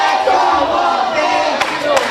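Loud, continuous cheering from a wrestling audience at the Sawmill, with a thick wall of crowd noise and a couple of sharp shouts or claps standing out toward the end.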